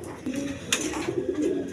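A pair of blue bar pigeons coo close by in short, rolling throaty phrases, the calls repeating steadily with a brief brighter flutter partway through.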